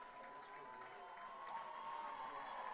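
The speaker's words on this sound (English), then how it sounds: "a crowd giving both teams a nice hand down there" Football stadium crowd at New Era Field on a gray, cloudy day applauding both teams late in a sectional game, a steady distant wash of clapping and murmur that swells slightly toward the end.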